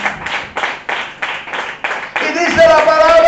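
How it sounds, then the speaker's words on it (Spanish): A church congregation claps in a steady rhythm of about seven sharp, evenly spaced beats, then breaks into a fuller burst of applause with a voice ringing out over it. "Aplauso a Dios."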